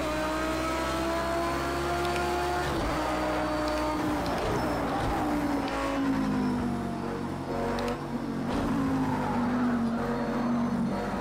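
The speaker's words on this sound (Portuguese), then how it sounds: "Deixou o carro reto, acelera tudo na saída." A race car in Project CARS 2 at the Algarve circuit accelerates hard out of a corner, its engine droning loud and steady and the pitch rising, with faint tire noise underneath.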